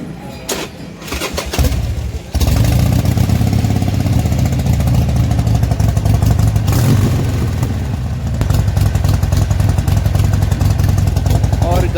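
A Harley motorcycle engine runs loud and close after a brief start, its uneven, sputtering exhaust note suggesting misfires, steady throughout.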